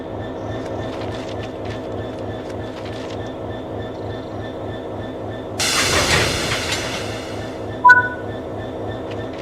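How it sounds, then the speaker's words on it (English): Train wagons being uncoupled in Train Sim World 4: a steady rhythmic rumble of railcars, then a sudden loud hissing release of air followed by a short sharp clank and squeal near the end. "Now uncouple the wagons, either on foot or using the external camera"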